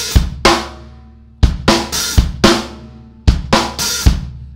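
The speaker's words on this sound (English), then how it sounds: "If I now open that hi-hat for 1/16th note worth" Drum kit fill played on kick, snare and an open hi-hat held for a sixteenth note: sharp, loud hits in quick clustered groups with short washy tails, close and alone, no talk.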